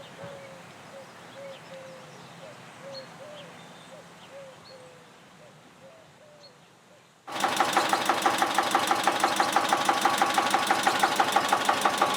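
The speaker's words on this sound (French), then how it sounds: "Entendre le bruit d'un moteur qui n'a pas marché pendant un siècle" An old engine, unused for a century, sputters to life after a quiet stretch with faint birdsong, then chugs loudly with a steady, rapid knocking rhythm.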